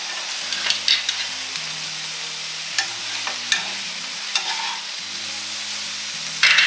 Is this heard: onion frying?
yes